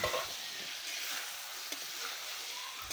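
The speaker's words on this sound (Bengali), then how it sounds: "এখন আমি মূলাগুলা দিয়ে দিলাম" Thick-cut radish pieces go into a pan of sautéed turmeric, salt and chili for a pangas fish curry, setting off a loud, steady hiss and sizzle up close.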